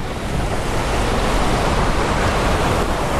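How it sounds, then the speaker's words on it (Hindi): Water rushes loudly and continuously through a channel at a hydroelectric power plant, a dense, steady roar with no breaks and no voices, heard up close. "देखिए गाइस कैसे जल आ रहा है वहाँ पे, बहुत खतरनाक लग रहा है"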